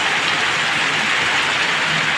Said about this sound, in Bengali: দেখো কীরকম বৃষ্টিটা হচ্ছে